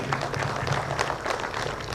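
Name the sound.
audience applause for award winners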